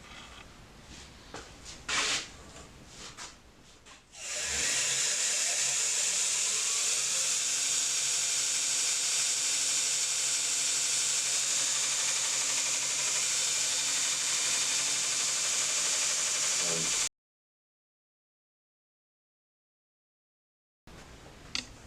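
A belt grinder with an aluminium oxide abrasive belt sands metal, a steady loud hiss-like grind sustained for several seconds after brief start-up noises, then cutting to silence.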